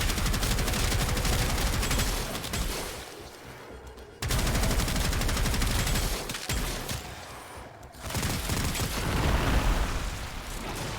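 Rapid, dense gunfire from the video game Warframe, a loud continuous barrage of shots broken by two brief pauses before resuming at full intensity.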